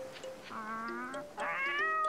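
A cat meows several times in the video game Petz Catz 2, clear drawn-out calls close up, with a short pause between them.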